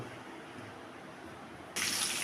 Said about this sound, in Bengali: তো মাছগুলোকে আমি তেলের মধ্যে দিয়ে দিলাম